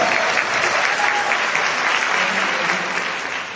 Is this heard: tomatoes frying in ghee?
no